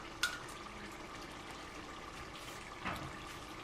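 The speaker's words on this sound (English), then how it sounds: "so we add more water." Water trickles into a pot of Ofada rice as it cooks, a soft liquid pour with a brief splash at the start and another near the end, quiet and close.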